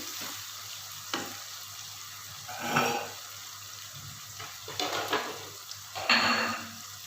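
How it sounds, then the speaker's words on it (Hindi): Fried potatoes and okra are stirred together in a pan for an aloo bhindi sabzi, with soft sizzling underneath and several distinct scraping, clattering bursts from the spoon against the pan. "जी देखिए आलू मैंने अच्छी तरह भून लिए हैं। अब इसको मिलाते हैं भिंडी में।"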